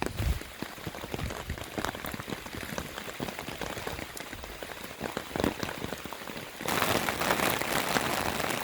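Heavy rain falling outdoors in the Peak District, a dense steady patter of drops on surfaces that swells louder near the end, continuous and close with no speech.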